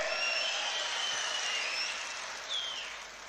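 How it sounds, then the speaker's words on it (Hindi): Crowd applause at an Aam Aadmi Party welcome rally in Doda: dense, steady clapping that holds loud, then gradually thins and fades toward the end. "मान साहब के लिए जोरदार ताली बजा दें।"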